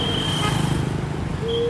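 Traffic on a busy main road in Purwokerto. Engines rumble close by and a horn sounds briefly at the start and again near the end.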